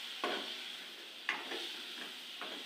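Brinjal pieces sautéing in hot oil, a faint continuous sizzle broken by a few sharp spoon taps and scrapes against the pan, no voices.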